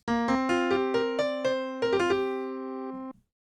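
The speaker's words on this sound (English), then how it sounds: "And then we have piano 2 again." Synthesizer piano 2 tone from the Dreamland Combi patch plays a quick run of struck notes that ring on into a held final chord, then cut off cleanly; clear and close, no voices.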